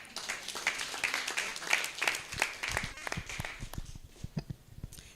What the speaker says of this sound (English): Now you can clap for me.